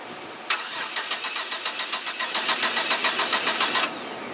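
A 2000 Chevy Blazer engine cranks over on the starter during a compression test, about twenty even, rapid turning pulses in one steady run of roughly three seconds. It is loud and close, with no voices.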